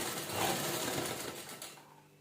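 A sewing machine runs continuously at close range as it stitches fabric diagonally, giving a fast, even mechanical whirr that slows and fades out toward the end.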